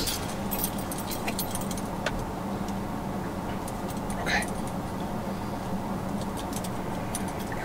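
A bunch of keys jangles with light metallic clinks while being wiped in a truck cab, under steady talking and a constant low engine hum.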